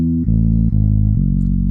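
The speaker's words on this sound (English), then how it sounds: "the only sound that I use on this is this bass guitar preset from Flex" Sustained bass guitar notes from a software instrument preset, playing three or four clean low root notes in sequence, each held, loud and alone.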